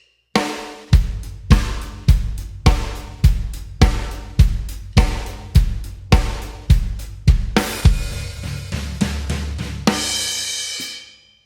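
A drum kit plays a simple pop dance groove. Punchy kick and snare hits land in a steady, even pulse, and the pattern ends on a ringing cymbal crash that fades out.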